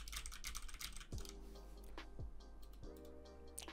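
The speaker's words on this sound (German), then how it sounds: "man hört nicht mal mehr mein Tippen und ich kann euch mal zeigen, wie laut das eigentlich ist" Typing on a computer keyboard, heard as a quick, steady run of light clicking keystrokes close to the mic, quiet and alone without any voices.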